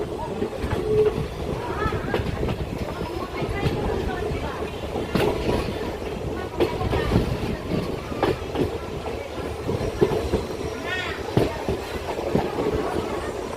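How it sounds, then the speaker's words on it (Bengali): A train departing Sevoke station rumbles steadily along the tracks with rhythmic clatter and occasional squeaks, while people talk in the background throughout. "তো ট্রেন ছেড়ে দিল সেবক স্টেশন থেকে।"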